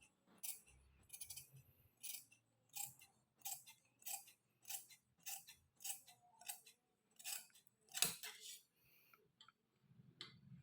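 Scissors snip through fabric while kurti sleeves are being cut out, making a string of short, regular crisp snips close by, spaced roughly half a second apart and faint overall.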